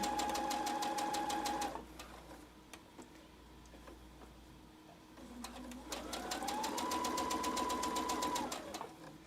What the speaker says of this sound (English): And I would sew probably at about this speed.